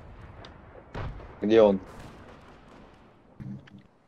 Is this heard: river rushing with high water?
no